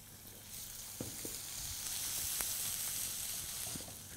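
Garlic and ginger sizzle steadily in hot oil for Punjabi sarson ka saag, a loud continuous hiss with a few clinks of a utensil stirring.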